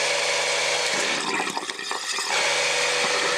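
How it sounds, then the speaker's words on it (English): Water rushes steadily from the cold tap of a bathroom sink as a holiday-home water system is drained, a continuous close hiss that dips briefly midway before resuming. "want to drain the hot and cold outlets at the bathroom sink here, starting with the cold"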